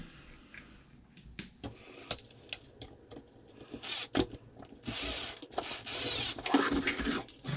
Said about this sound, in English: And just put the screws back in.